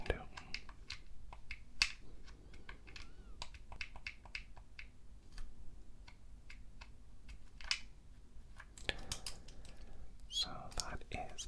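Clicky Nintendo Game Boy buttons pressed in a quiet room, sparse small sharp clicks and taps scattered through the stretch with a few louder handling rustles near the end, close and soft.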